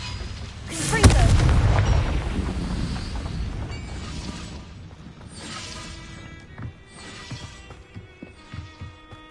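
A Confringo fire spell explodes in the Hogwarts Legacy video game: one loud, heavy boom near the start rolls into a rumbling decay, followed by several fainter crackling bursts.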